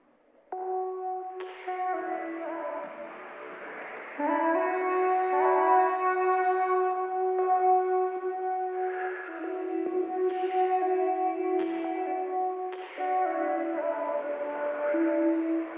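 Improvised, autotuned vocal snippets sliced up and scattered across a Logic timeline, heard as sustained pitched, stepped tones with layered harmonics, starting quietly and then holding steady, with brief bright bursts breaking in here and there.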